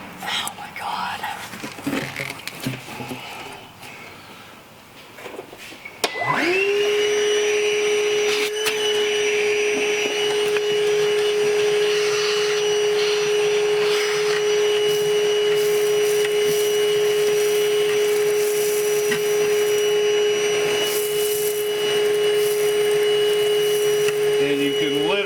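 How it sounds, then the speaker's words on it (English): Vacuum cleaner sucking mouse nests and debris out of the engine of a 1960 Ford F100, starting abruptly after some faint rustling and then running as a loud steady whine with a rattling, gritty rush of material. "And you can literally just hear it sucking out all kinds of nasty mouse nests, mouse turds, mouse pee."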